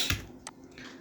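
Computer keyboard keys are tapped in a few soft, separate clicks, close by and faint in a quiet room.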